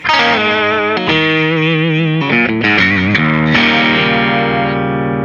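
Heavily distorted electric guitar strummed in hard, fast rakes, loud and sustained with a gritty, saturated tone.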